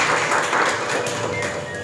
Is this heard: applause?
yes